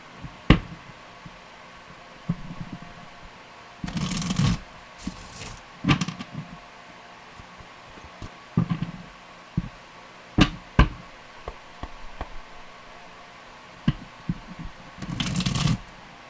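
Tarot cards being shuffled by hand in short separate bursts, with crisp riffling flutters and soft taps between quiet pauses, close and clear.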